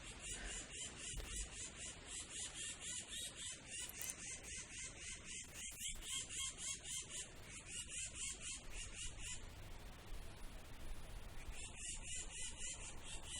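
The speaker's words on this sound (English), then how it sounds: "What is up with this bird?" A bird squawks over and over in a steady, grating rhythm, close and dominant throughout, with a brief burst of noise partway through.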